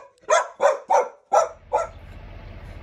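Puppies at a house in Brunswick, Maryland bark five times in quick, evenly spaced bursts, close and loud, then fall quiet against a low background rumble.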